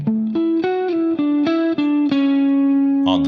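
An electric guitar plays a quick run of single passing tones around a chord shape, each note plucked in turn with a distinct attack, ending on a sustained note and a brief strum, all clear and close.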